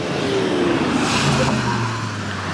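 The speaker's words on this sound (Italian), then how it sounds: "macchina lì col motore molto potente" A powerful car engine revs and accelerates at a distance in an urban neighbourhood, a rising, pitch-shifting roar that swells and fades under steady background noise.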